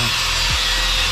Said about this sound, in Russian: Но я слышу, Леха там уже что-то пилит